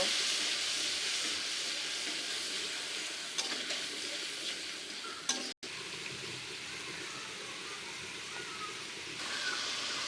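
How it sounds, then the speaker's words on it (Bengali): Spices fry hard in a pan with a continuous, even hiss and sizzle throughout, broken once by a brief knock and a momentary gap. "মশলাগুলো ভালোভাবে কষিয়ে নেব"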